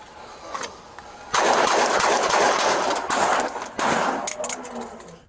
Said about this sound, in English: Still shooting.